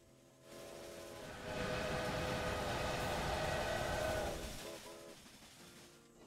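Trains rolling in the Railway Empire video game, a soft rumble that swells in, holds for a few seconds with faint tonal whistle-like bands, then fades away, quiet overall and without talk.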